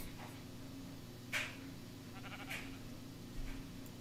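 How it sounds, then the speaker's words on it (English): Sheep bleats in the Craft to Survive video game, a few short, faint calls spaced over a steady low hum of game ambience. "A lot of sheep"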